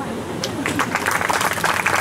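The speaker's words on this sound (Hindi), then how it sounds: "अपने लिए ताली बजाइए" Audience applause at a talk in Paonta Sahib, a sustained spatter of clapping from a seated crowd that swells slightly midway, with some voice mixed underneath.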